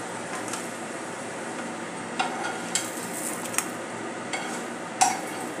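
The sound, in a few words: roasting ingredients in a pan, stirring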